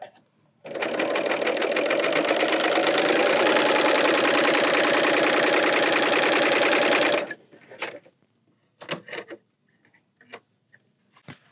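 A Bernina L890 serger overlocks and trims a fabric edge. Its dense, fast mechanical chatter runs steadily and close for about six seconds, then stops, followed by a few faint handling clicks and rustles.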